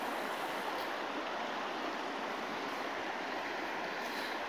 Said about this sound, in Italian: questo è il fiume di oggi